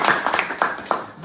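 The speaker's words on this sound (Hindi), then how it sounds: "जोरदार तालियां।" Hands clapping in a small audience at a talk show, a short burst of a few distinct claps fairly close, uneven in rhythm and fading after about a second.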